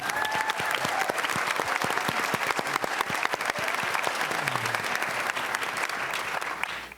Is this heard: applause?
yes